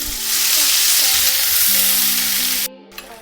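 Ground onion paste from two medium onions hitting hot spiced oil in a pan, a loud, steady sizzle that holds for nearly three seconds before cutting off abruptly.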